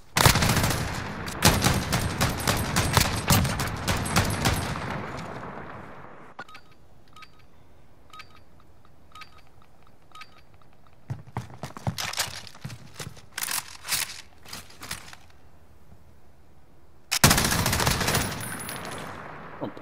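Video game gunfire bursts out in rapid, loud volleys, fades into quieter scattered shots and clicks, then returns in several dense automatic bursts with a final loud salvo.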